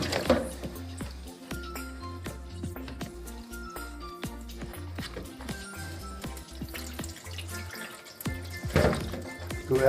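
Water runs and splashes into an electric kettle in a kitchen, with close clunks and rattles of handling, the flow picking up louder toward the end.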